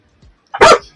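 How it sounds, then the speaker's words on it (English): A single sharp, loud bark from a puppy, close to the microphone, following a brief quiet pause. "Steve's puppy's going a little nuts."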